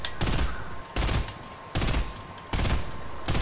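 Bursts of video game gunfire in a squad battle royale shooter, four loud sustained automatic volleys separated by brief gaps, close and dominant with no talk over them.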